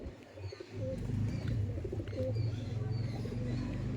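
Tournament-quality Madrasi pigeons coo in low, repeated throaty pulses close by, with faint chirps scattered above the steady murmur.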